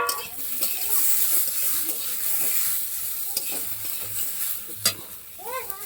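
Fried potatoes with chopped tomato and chopped nuts sizzle in a pan for a chow mein dish, with continuous frying hiss and scraping stirs close by.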